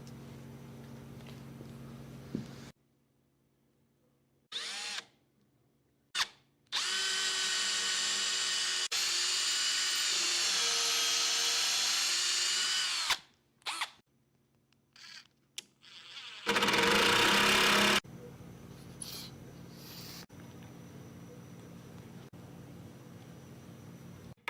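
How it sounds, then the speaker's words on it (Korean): A power drill bores screw pilot holes into a wooden rocker of a Maloof-style rocking chair, with several high whining bursts. One long run is separated by short starts and quiet pauses, heard close and alone. "스크류가 이렇게 락커를 연결시켜 줄 수 있게 들어가고, 거의 끝까지 뚫어서 길을 내줘야 될 것 같죠"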